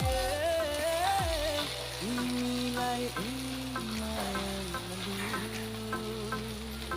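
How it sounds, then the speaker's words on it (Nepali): Sabudana and raw potato snack fries in a pan, a constant crackling sizzle with faint popping, close and moderately quiet, heard under a tonal music-like layer without talking. "यसलाई अब रातो रातो हुन्जेलसम्म फ्राई हुन दिने।"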